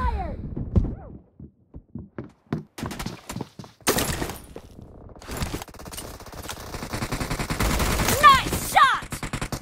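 Gunfire in the mobile battle royale game PUBG Mobile: a run of single shots at first, then dense rapid bursts and sustained automatic fire with heavy thuds, loud and close throughout.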